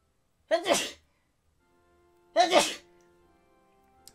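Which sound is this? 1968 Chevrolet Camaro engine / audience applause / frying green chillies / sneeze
sneeze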